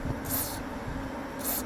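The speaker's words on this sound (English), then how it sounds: "Just give it a quick spray." Two short hissing bursts of an all-purpose maintenance spray hit rusted brakes on a Toyota MR2, each lasting about a third of a second, separated by a pause, close to the can and fairly quiet.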